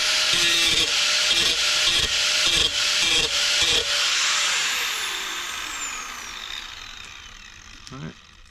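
An angle grinder works down a weld on a Henke snow plow being modified for a Peterbilt truck, in several rhythmic grinding passes before the motor winds down in a falling whine and a single knock.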